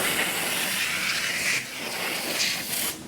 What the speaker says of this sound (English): So we have a little battery hand powered blower.